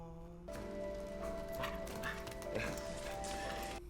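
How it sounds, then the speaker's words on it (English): A dog in John Wick: Chapter 2 gives short barks, yips and whimpers over a sustained musical score, with voices present in the background. "There's the dog he got at the end of the movie."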